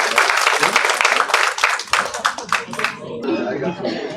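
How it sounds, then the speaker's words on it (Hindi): A crowd at an Indian poetry gathering claps loudly and steadily as a woman poet is welcomed, dense rapid hand claps filling the space before easing into a softer, more diffuse tail. "जोरदार तालियों से।"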